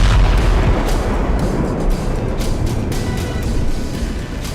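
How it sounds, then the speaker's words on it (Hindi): Bomb blasts in the Gaza war zone, heavy booming rumble with sharp impacts rolling continuously, loud and close, a multistorey building collapsing amid the explosions. "बम धमाके से भर भरा कर ढहती बहुमंजिला इमारत"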